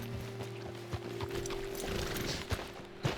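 Horse hooves clip-clop on the ground in the Red Dead Redemption 2 video game, scattered soft steps, fairly faint, over a low steady background hum.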